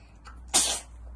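One sharp, close sneeze bursts out after a brief intake of breath in a quiet room.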